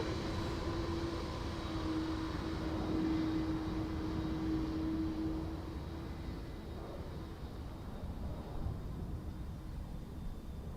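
An aircraft arriving from Denver passes overhead at Dublin Airport, a steady broadband engine rumble with a faint whining tone, holding fairly constant before easing slightly.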